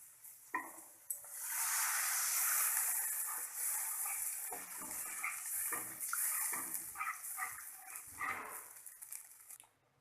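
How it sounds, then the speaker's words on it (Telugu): A glass of water poured into egg junnu curry cooking in a pan, a steady splashing pour followed by soft stirring and light clinks of a utensil against the pan, moderately close and without talk. "ఇప్పుడు ఇందులో 1 గ్లాస్ వాటర్ వేసుకోవాలి."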